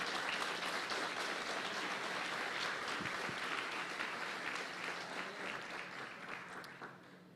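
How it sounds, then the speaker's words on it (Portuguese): A church congregation at a celebration service applauds in a dense, sustained wave of clapping that fills the hall, then slowly fades toward the end. "Você pode aplaudir ao Senhor?"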